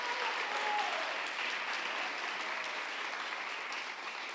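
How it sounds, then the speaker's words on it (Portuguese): Sustained applause from a church congregation during a family worship service, a dense, steady wash of clapping from many hands that holds at an even level throughout with no voices standing out. "Dá uma salva de palmas porque ele merece."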